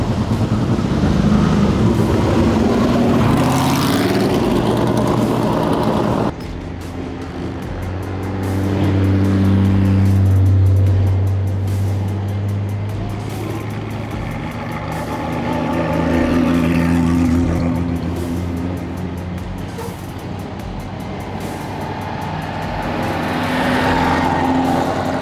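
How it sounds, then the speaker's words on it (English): Classic Maserati race car approaching and passing at a historic racing event near Stuttgart, the engine rising loud and close in a strong roar, then fading and swelling again as other engines drone on in the distance. "Here we have the Maserati coming."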